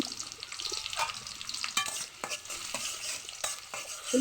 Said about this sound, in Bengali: তেলটা গরম হয়ে আসলে এর মাঝে দিয়ে দিব পেঁয়াজ কুচানো হ্যাঁ। পেঁয়াজটা কেটে রাখছি দিয়ে দিব পেঁয়াজটা একটু ভেজে নিব লাল লাল করে